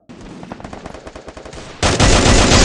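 Rapid automatic gunfire from a new EVO gun in a shooting video game, a dense stream of loud shots that swells into heavier continuous firing near the end, with no voices.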